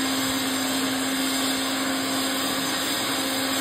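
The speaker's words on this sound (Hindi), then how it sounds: "यहाँ मिक्सी उक्सी चल रही" Kitchen mixer grinder running in a home, a constant loud whirring motor drone with a steady hum, uninterrupted for the whole stretch.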